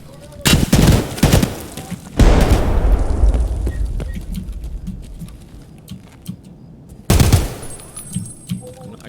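Bursts of rapid gunfire and a heavy grenade blast ring out in a raid shooter game, loud close volleys separated by quieter stretches with scattered small clicks and thuds.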